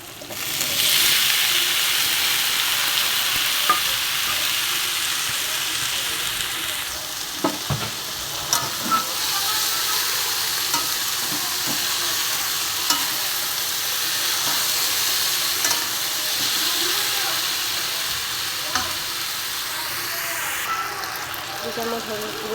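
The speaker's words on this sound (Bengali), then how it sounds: "বন্ধুদের মধ্যে রসুন লঙ্কা দিয়ে দিয়েছি, এবার লতিটা ভেজে নেব।" Taro stolons frying with garlic and chilies in a hot pan make a loud, continuous sizzle and hiss, broken by occasional scrapes of a stirring spoon up close.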